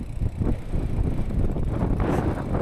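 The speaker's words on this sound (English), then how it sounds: "That's too windy for me." Strong wind roars across the microphone while cycling near Waterfall Beach on the Munda Biddi trail, a loud, continuous gusting rumble with no speech.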